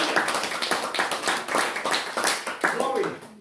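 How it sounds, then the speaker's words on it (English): A church congregation claps along during a worship service, a steady rhythmic pattern of hand claps mixed with voices and singing throughout. "Can we clap unto the Lord?"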